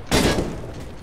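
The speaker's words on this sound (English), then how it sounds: "Live grenade" A live grenade detonates in CS:GO, a loud close boom with a sharp onset that rolls off into a long rumbling decay lasting about a second.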